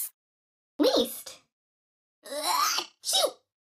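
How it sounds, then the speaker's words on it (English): A sneeze from a mobile word-game character, heard as a short breathy intake followed by a sharp, loud burst, alone against silence. "Achoo!"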